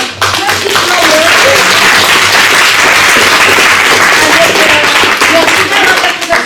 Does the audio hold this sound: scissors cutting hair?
no